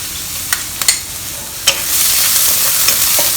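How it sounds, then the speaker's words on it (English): Chopped ginger, shallots and garlic hitting hot oil in a non-stick pan, a few sharp stirring clicks followed by a loud, steady close-up sizzle. "Fry them until fragrant"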